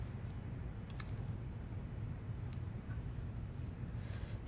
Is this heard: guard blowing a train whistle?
no